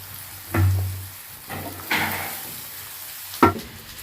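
Onion frying in ghee with garlic and ginger for an aloo gobi curry, a soft continuous sizzle broken by a few scattered stirring knocks and scrapes of a spoon against the pan, close by, no voices.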